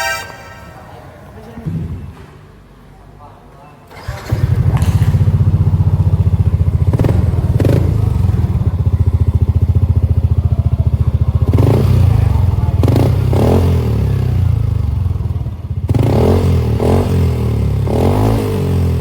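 A motorcycle being checked for engine sound in a workshop before a big-bore build: after a quiet start the engine fires up and runs loud and steady nearby, with a few clanks and dips in the rumble and no talking.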